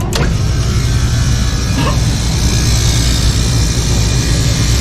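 Lennox HVAC unit running at stage 3, a steady loud low-frequency rumble and whooshing airflow that holds evenly throughout, with a couple of brief higher clicks near the start.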